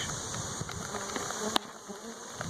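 Honey bees buzz in a steady, low, close swarm, a continuous droning hum with small clicks and shifts through it.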